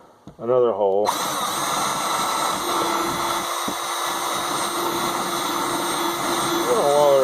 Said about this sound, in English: we're going to drill another hole.